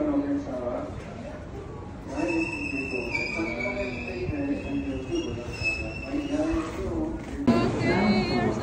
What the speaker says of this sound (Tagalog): Okay, here's our train.